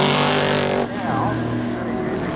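Turbo Tramana and V8 Commodore sports sedans race side by side on a circuit back straight, with loud, close engine roar that shifts sharply in pitch partway through as the cars pass.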